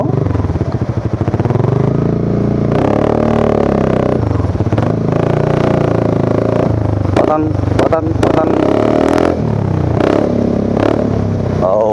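A Honda Forza 350 scooter engine runs loud and close, its note swelling as it revs and then holding a steady drone, with a voice in the background.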